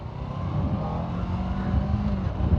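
A Suzuki Bandit 1200 motorcycle engine runs with a steady, throaty drone under a constant rumble, close and loud, its pitch rising slightly near the end as if revving, with no talking.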